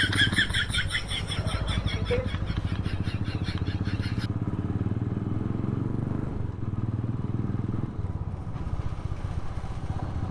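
A motorcycle engine drones steadily and loud throughout while the bike is ridden, with a harsher rattling layer in the first four seconds and no clear talk.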